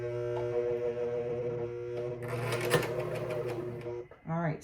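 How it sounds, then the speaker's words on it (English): A Juki MC 1500 coverstitch machine sews with a steady mechanical hum and rapid needle chatter that grows busier midway, then stops near the end as a voice begins speaking. "I'm just going to sew with it for this"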